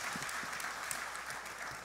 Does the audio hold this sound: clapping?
yes